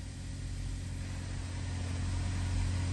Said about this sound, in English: let's go ahead and start this beauty up for you guys